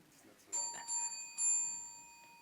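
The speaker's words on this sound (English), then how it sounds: "you will hear a little ring, a little gong" A small bell rings to signal that speaking time is over at a campus recording day event, several clear, sustained chimes close by that ring out and fade over faint background murmur.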